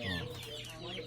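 Chickens clucking in a steady, busy chorus close by, with soft overlapping calls and no speech.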